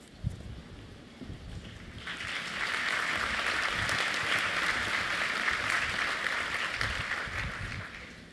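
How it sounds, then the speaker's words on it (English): A convocation audience breaks into applause for an honorary doctorate recipient, swelling to a broad, sustained roar of clapping in a large hall before slowly tapering. "I always worry when people clap before you've said anything"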